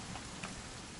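Continuous rain pours in the video game What Remains of Edith Finch, a dense, even hiss with no voices over it.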